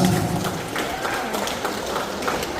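An audience claps for the team at a motivation day event, a steady, dense wash of applause that fills the whole moment without pause or build.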